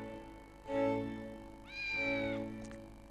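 A cat lets out two drawn-out meows, the second higher and more tonal, each lasting close to a second, over a soft steady background hum, with no one talking.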